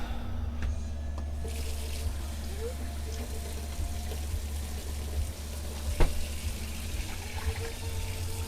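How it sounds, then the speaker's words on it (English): Tap water runs steadily into a cooking pot while rice is being prepared, a constant rushing stream in a kitchen with a low hum underneath and a brief clink partway through. "I'm going to measure a cup of water into this"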